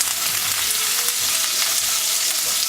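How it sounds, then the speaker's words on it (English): Lamb chops searing in hot olive oil in a pan over medium-high heat give a loud, steady, close sizzle that crackles without pause, with no talking. "I'm going to lay the chops down to sear them"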